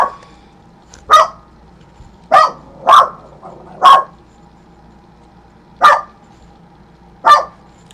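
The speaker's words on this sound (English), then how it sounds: "let me let these dogs out." Dogs barking indoors: six sharp, loud barks spaced irregularly over several seconds, each short and punchy, with a quiet background between them.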